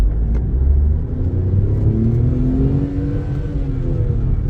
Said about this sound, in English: engine gets quite vocal in the top end